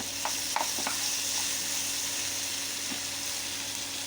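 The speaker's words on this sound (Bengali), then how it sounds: "গোলমরিচের গুঁড়া দিতে হবে, মানে চিলি ফ্লেক্স দিয়ে ভাজা ভাজা করতেছি" Crab frying with garlic, garam masala and chili flakes sizzles steadily in a pan, with a few clinks and stirring scrapes early on, no talking.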